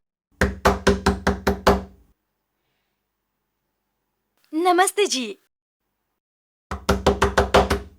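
A rapid series of six sharp knocks on a door, a short spoken greeting after a pause, and then another burst of six quick, loud knocks close up.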